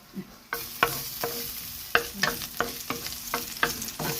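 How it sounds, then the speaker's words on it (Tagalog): Garlic sautéing in a small amount of oil in a pan, a soft hiss that jumps up as stirring begins, then regular spatula taps and scrapes roughly every half second, close and fairly quiet, with no talking. "Maggisa naman tayo ng bawang muna."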